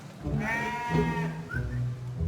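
Sheep on a farm bleat in a couple of close, wavering calls, loud and clear over a low background, with no talk.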